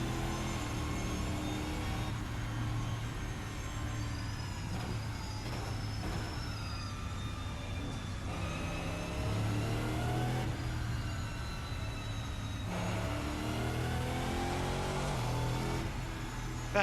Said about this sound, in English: I like the gear whine as well, and the engine at higher revs really drowns this out.